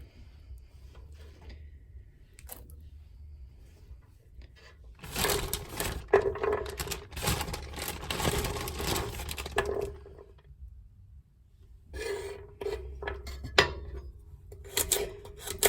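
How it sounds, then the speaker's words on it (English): Chopped peppers go into a crock pot with a burst of clattering, scraping and knocking, followed by quieter stretches and a second clatter, all close and unvoiced. "Now we're going to add the peppers to the crock pot."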